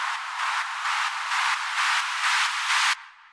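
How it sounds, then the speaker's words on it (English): White noise riser from a synth plugin, pumped by sidechain compression into about ten even surges that swell steadily louder over four bars, then cut off abruptly, played alone with no voices. "with a sidechain pumping effect to create sort of a pumping noise"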